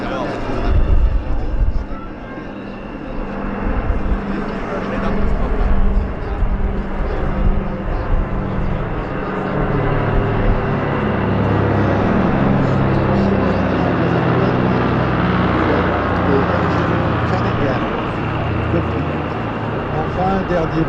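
Engines of a PBY-5A Canso Catalina seaplane at an airshow give a continuous, fairly loud drone with wind rumble, heard under ongoing spoken narration.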